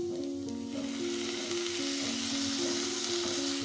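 Ghee and ground garam masala sizzling steadily in a pan, a continuous loud frying hiss close up with no voices.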